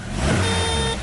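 A 1992 Nissan NX with a 1.6-litre fuel-injected engine turns over and catches, a brief, close burst of engine noise with a faint high tone running through it.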